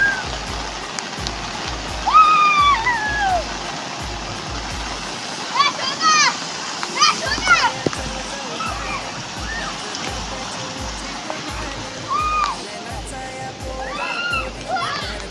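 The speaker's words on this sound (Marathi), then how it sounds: "वरती गेलो दोघ जण पोवायला." Several people swim and splash in open water, a continuous rush of water broken by splashes while voices, including children's, shout and chatter over it.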